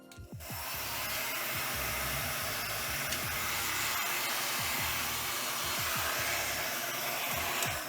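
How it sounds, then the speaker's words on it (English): A heat gun blows hot air during repair work on a MiniDisc MDS-JE320 deck, a loud, steady, close rushing hiss that starts abruptly and runs throughout with a faint low motor hum underneath. "That heat gun gets hot."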